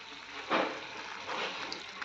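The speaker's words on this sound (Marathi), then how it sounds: "त्यामध्येच मी अर्धा ग्लास पाणी ॲड करून हे" Ground spice paste thinned with half a glass of water is poured into a pan of brinjal curry, giving a soft, brief splash followed by a faint trickle, close and quiet.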